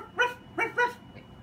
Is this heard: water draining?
no